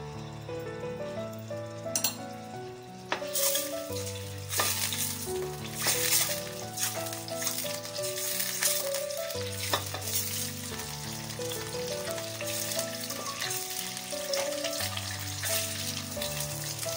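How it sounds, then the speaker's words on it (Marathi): Eggs sautéing in a pan for egg white kurma: a continuous gentle sizzle and frying crackle with occasional stirring clinks, set under steady melodic background music. "ही अंडी आपल्याला परतून घ्यायची।"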